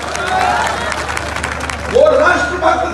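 Crowd at a political election rally in Bhavnagar, Gujarat clapping and cheering steadily, a dense wash of applause with a swell of shouts near the end and voices mixed in.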